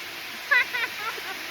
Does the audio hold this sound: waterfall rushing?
yes